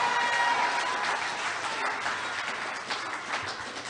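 Steady crowd applause at a Saint Kitts and Nevis Labour Party national anniversary conference, dense continuous clapping that holds at an even level throughout without any voices rising above it.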